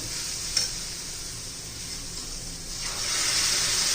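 Sprouted green moong usal sizzling in a pan and being stirred, a steady close frying hiss with soft scraping that swells slightly louder toward the end.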